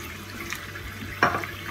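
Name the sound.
pouring a little water into kofta masala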